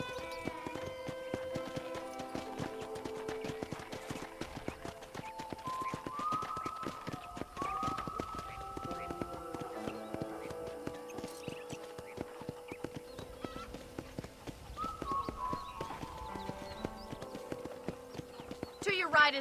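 Steady clip-clop of a black stallion's hooves trotting through a ranch in the Red Dead Redemption video game, running under continuous music and an occasional horse whinny.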